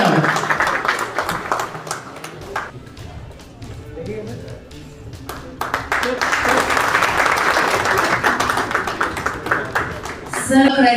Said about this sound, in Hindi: Please step forward और तालियों के साथ all in all put your hands together in here.